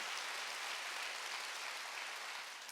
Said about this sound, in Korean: 박수를 하나 드리세요.